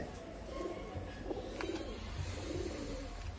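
Pigeons sold in pairs cooing softly, a few low murmuring coos over a faint background hum, with no talking.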